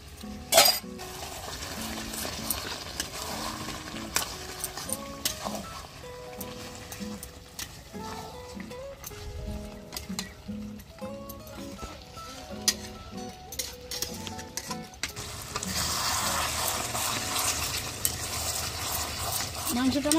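Potatoes go into a chicken curry pot on a clay stove and are stirred in. A spoon scrapes and clinks against the pot in irregular bursts, with a voice talking at times in the background.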